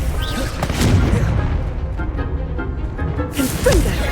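Confringo blasting spell in Hogwarts Legacy, loud booming blasts with heavy low rumble and bursts of crackle, several impacts across the stretch, with a voice briefly heard under the explosions.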